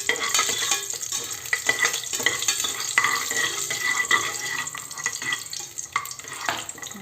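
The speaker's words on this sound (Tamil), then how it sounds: "ஒரு ஏலக்காய், ஒரு பட்டை, இது பொன்னரமாக வதங்கணும்" Bay leaves, cardamom and a piece of cinnamon fry in hot oil for a biryani, giving a steady close sizzle broken by scraping stirs and light clinks of a pan.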